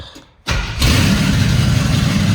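A truck engine cranks and catches after a brief quiet, then settles into a loud, steady idle close by, with no voices.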